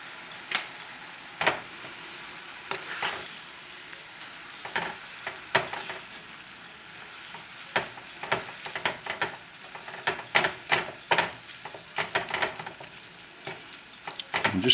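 Onions cooking in tomato sauce give a soft, steady sizzle, broken by frequent sharp scrapes and clacks of stirring at close range.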